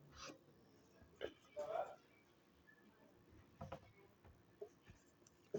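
Chalk or marker scratches briefly on a classroom board in short strokes while a teacher writes, moderately close and interleaved with the teacher's speech.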